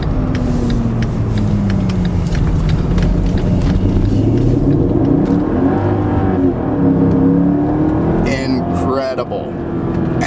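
A supercharged 2005 Mercedes-Benz SL55 AMG roadster engine drones and rises in pitch as it accelerates, loud and close, with someone talking over the steady roar.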